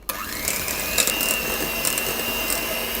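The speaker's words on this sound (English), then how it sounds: "Now what you're going to do is whisk it for about a minute until it's nice and fluffy." An electric mixer whirs steadily at close range while whisking about two packs of cream cheese for a cake until fluffy, a continuous mechanical drone with faint rattling ticks.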